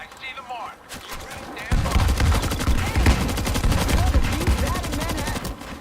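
Rapid bursts of gunfire in the video game World War Z crackle nonstop, with a heavy grenade explosion kicking in partway through and sustaining a loud, dense barrage.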